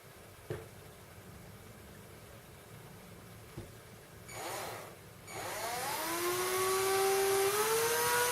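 A power drill spins electric shaver blades against the head with oil and grinding paste, giving a loud, rising whir that starts briefly, stops, then runs steadily to the end, with a few faint clicks before it.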